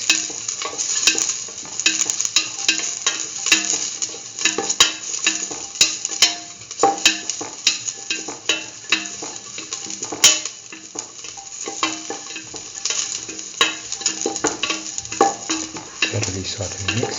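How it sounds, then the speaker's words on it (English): Okra rice with chili being sautéed and stirred in a pan, a steady sizzle broken by repeated rhythmic scraping strokes of a spatula against the metal, close and fairly loud throughout. "thoroughly saute and mix."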